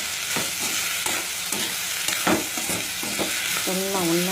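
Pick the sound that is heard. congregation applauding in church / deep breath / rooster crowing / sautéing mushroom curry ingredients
sautéing mushroom curry ingredients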